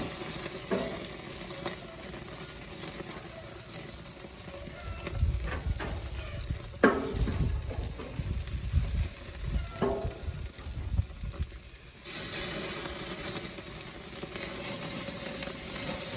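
Hamburger patties sizzle on a grill: a continuous close frying hiss with bursts of louder crackle and a few scraping, pressing sounds midway, then a steady sizzle again, no talking.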